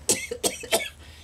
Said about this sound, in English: this cough that I have developed here in the Oasis of Freedom